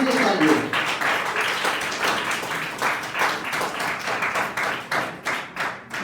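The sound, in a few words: audience applause at an award ceremony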